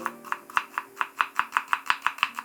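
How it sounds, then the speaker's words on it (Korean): A knife thinly slicing an onion on a cutting board, with about a dozen crisp, evenly spaced cuts in a steady quick rhythm, heard up close with no talking. "양파는 가늘게 채쳐주세요."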